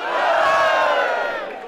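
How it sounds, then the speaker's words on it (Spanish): A sports team's supporters cheer and applaud as a loud, sustained crowd roar that holds steady and then fades slightly toward the end. "Raúl García, gracias por los aplausos al equipo."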